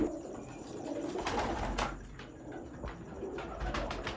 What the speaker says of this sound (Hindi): अली वाला कबूतर मैं दिखाने लगे।